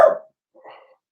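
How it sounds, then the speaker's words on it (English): A pet dog named Dixie lets out a sharp bark up close, then a softer, shorter yelp after a brief pause, indoors during a home lecture. "Sorry, that's my dog."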